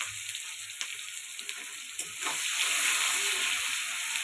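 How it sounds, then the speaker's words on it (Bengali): Chopped onions sizzle and fry steadily in hot oil for a fish kalia, a constant hiss that grows louder partway through, with faint stirring and no talk. "পেঁয়াজটা লাল লাল করে ভেজে নিব"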